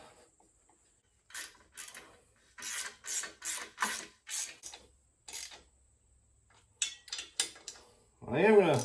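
A ratchet with a 1/2-inch socket tightening nuts on a Harley Sportster during base gasket work, heard as bursts of rapid clicking and rasping with short pauses, close and fairly quiet, ending in a louder metallic whir.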